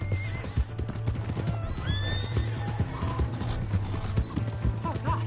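A horse in a video game gallops with rapid clip-clopping hooves and lets out several shrill neighs and whinnies, close and loud over faint mechanical clatter.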